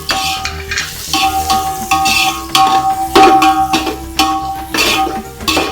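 Whole spices being stirred in a pot for chicken pulao, a spoon scraping and clinking against the pan in repeated strokes over a light sizzle, close and loud.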